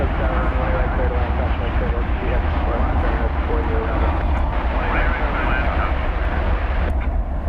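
A jet airliner takes off at night from DFW Airport, a steady broadband engine roar that holds the whole time at an even, fairly loud level, with no clear rise or fall. Faint talk sits underneath it.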